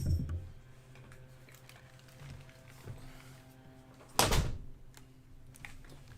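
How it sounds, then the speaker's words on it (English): A door shuts with a single sharp thump partway through, standing out over a quiet room hum and a few faint clicks. "I gotta close my door."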